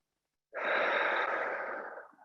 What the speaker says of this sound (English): We'll start by breathing in through the nose and out through the mouth.